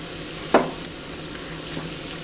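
Beetroot and date pickle with garlic is stirred in a hot pan: a steady, even sizzle runs throughout, broken by a couple of brief scraping clicks of the spoon.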